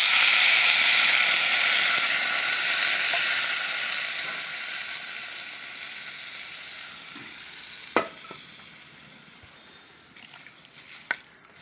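Loud steady sizzle and bubbling from a pan of fish and vegetable curry on a wood-fired stove as water goes in, the hiss gradually easing, with a few sharp clinks of a utensil near the end.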